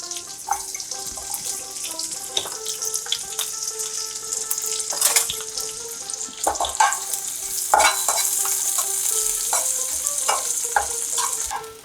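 Onion rings fry in ghee in a pan, a loud, constant crackling sizzle with occasional scraping and stirring strokes close by, and no voices.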